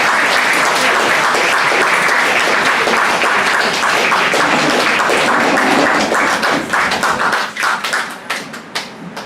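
Audience at a poetry club evening applauding after a poetry reading: dense, loud clapping from a room of people, fading into scattered last claps at the end.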